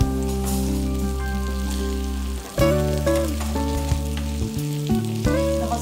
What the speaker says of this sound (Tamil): மசாலா ஆயிலில் ரோஸ்ட் ஆகும்